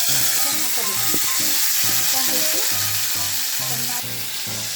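Mustard seeds and cumin fry in hot oil in a pan, giving a continuous loud sizzle with scattered crackles and pops up close, and no talking over it.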